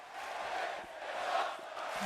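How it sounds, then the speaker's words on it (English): At a pro wrestling main event, a large crowd cheers and chants together in a steady, dense roar that holds at an even level throughout, with no clear single voice standing out. "The crowd loves it. They are loving this main event, shouting, "This is awesome.""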